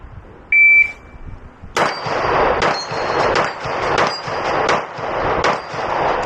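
Pistol shots ring out against steel plates in a rapid string of about six loud reports, each followed by a metallic clang, after a brief shot-timer beep.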